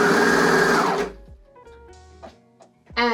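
A sewing machine stitching swimsuit fabric runs briefly with a steady whirring hum, then stops, leaving soft clicks and handling noise before a short burst of rising whine at the end.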